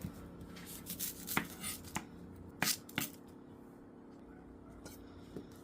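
A knife chopping onion on a board, a handful of sharp irregular taps in short bursts, fairly faint and close, with quiet rustling between strokes.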